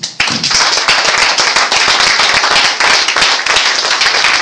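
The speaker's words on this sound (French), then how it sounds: "Acclame Jésus" A church congregation bursts into dense, continuous applause, many hands clapping close by at a steady, loud level.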